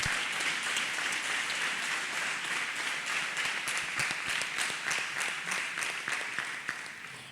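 A church congregation claps along through a testimony service, a dense steady patter of many hands with sharper individual claps standing out, sustained at even loudness before easing slightly at the end.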